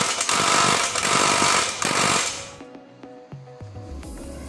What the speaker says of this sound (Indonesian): mengeratkannya menggunakan torsi yang ada pada impact driver 180